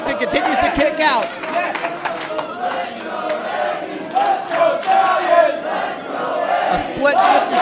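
Crowd at a Glory Pro wrestling match between Curt Stallion and Eddie Kingston, cheering, shouting and clapping in bursts, with a commentator talking over the continuous roar of the audience.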